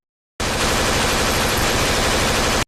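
A sudden, sustained burst of rapid gunfire erupts loud and close, a harsh continuous rattle lasting a couple of seconds before cutting off abruptly.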